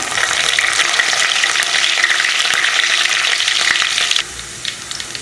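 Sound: fennel, garlic and curry leaves frying in sesame oil

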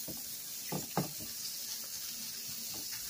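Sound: shrimp frying in a pan for fajitas

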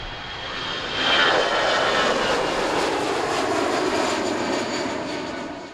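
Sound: jet aircraft taking off

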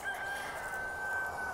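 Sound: rooster crowing

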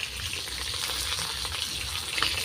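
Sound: fish frying in oil in a pan

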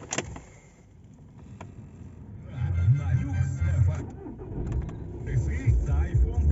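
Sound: Volkswagen Jetta 2015 2.0 TDI diesel engine starting and idling

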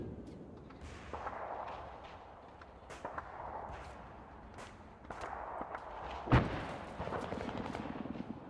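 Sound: gunfire during military team training

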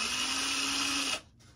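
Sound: drill drilling through a hole for LEDs

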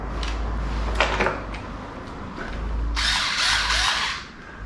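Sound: Vigrue power screwdriver motor running

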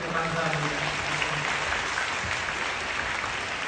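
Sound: applause in church

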